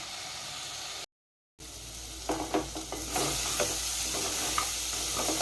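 Mutton and potatoes frying in a pan, with a steady sizzling hiss broken by a short silent gap, then scraping stirring strokes and clatters coming close and loud.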